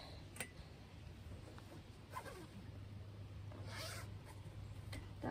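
A zipper on a fold-down seat cushion inside a micro-camper van is pulled in several short, separate strokes. The zips sound close and fairly quiet against a soft background hum.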